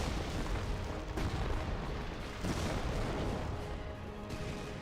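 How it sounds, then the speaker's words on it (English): Rapid overlapping explosions from butterfly bombs in the WWII strategy game Company of Heroes, a dense, continuous rumble of crackling blasts and booms filling the whole stretch at steady loudness, with no one talking. "Oh, there's some butterfly bombs right there."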